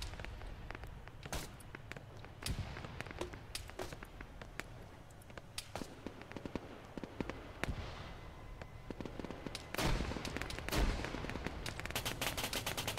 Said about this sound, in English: So GMG fire being distributed to these guys.